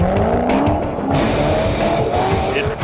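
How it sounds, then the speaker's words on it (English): A rally-style car races flat out downhill on a gravel course. The engine roars loudly with a rising and falling pitch, mixed with tire noise and the crunch of gravel. "It's pedal to the metal downhill on gravel."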